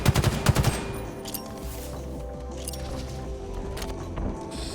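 Rapid bursts of gunfire from the Halo Infinite video game, several loud shots up front, then a dense, muffled stretch of game combat and effects in a ranked multiplayer match.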